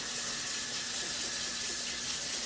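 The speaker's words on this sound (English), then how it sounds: "so the spaghetti noodles are done, so we're just going to drain them and then rinse them" Tap water runs steadily over cooked spaghetti noodles being drained and rinsed in a sink, a close, continuous rushing splash.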